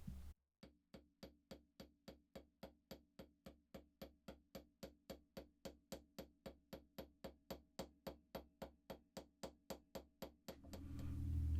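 A hammer strikes wire on a steel bench block for a jewelry pendant, about thirty sharp metallic taps in a steady, even rhythm, close and alone, ending in a brief rumble of handling.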